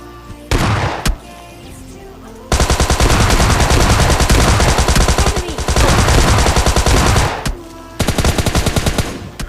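An S12K shotgun in PUBG Lite fires loud, close, rapid bursts of shots in several long volleys, broken by short pauses and a couple of single blasts.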